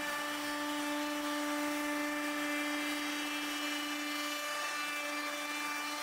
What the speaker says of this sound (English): I want to chamfer the edge. I do so with my handheld router.